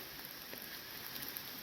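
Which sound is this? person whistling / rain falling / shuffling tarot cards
rain falling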